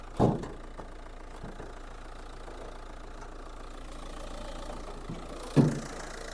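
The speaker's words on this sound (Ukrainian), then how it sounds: "Робота двигуна. Двигун працює чітко" Steady low diesel engine idle of a Renault Scenic 1.5 dCi rumbles throughout, with a couple of brief louder knocks near the start and end.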